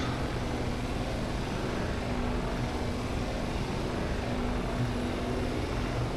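A Shergood S64 aircraft engine idles on the runway before takeoff in a flight simulator, a steady, unbroken droning roar with a faint low hum and no pauses.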